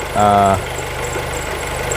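A 2002 Honda CR-V with its 2.0L K20A4 four-cylinder idles with a steady low rumble, briefly masked by a short burst of speech near the start.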